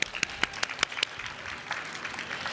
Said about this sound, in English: Yes, give her a round of applause.